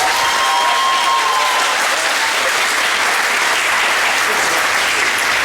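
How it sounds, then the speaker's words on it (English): An audience at a school moving-up ceremony applauds the students, with steady, dense clapping sustained throughout and faint crowd noise mixed in. "How about a round of applause for our students?"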